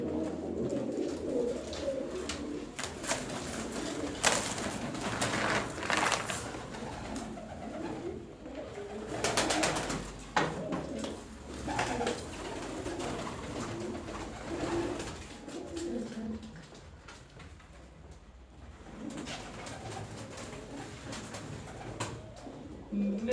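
Large pigeons at a pigeon seller's in Turkey coo repeatedly in low, rolling calls, several birds close by, with occasional rustling and faint background noise.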